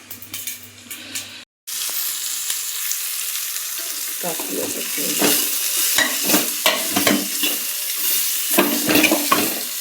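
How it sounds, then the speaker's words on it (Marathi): Chopped onion hits hot oil for tempering in a pressure cooker, giving a loud, steady hiss and sizzle with scraping stir sounds, after a brief pause near the start; someone speaks a word. "कांदा कुकरला फोडणी देते बघा"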